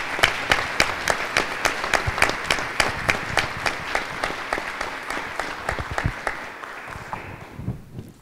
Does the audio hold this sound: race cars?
no